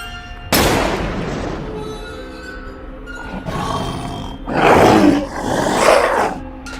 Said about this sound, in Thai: แล้วนั่นเองคือเสียงสุดท้าย ของสมิงลาย